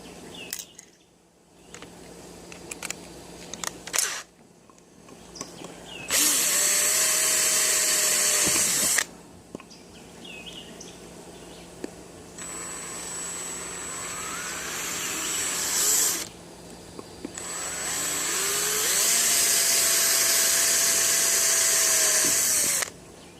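A power drill with a dull bit whirs in several long bursts separated by short pauses, close and loud, with some clicking and handling noise between runs.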